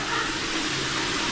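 Water gushes steadily like a shower, a loud, unbroken hiss with no pauses, heard close in a house under repair.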